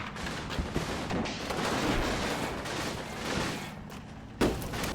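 Sustained battle din in the WWII tactical wargame Combat Mission: Battle for Normandy, with continuous gunfire and machine gun bursts rolling on at a steady loudness, plus one sharper report near the end.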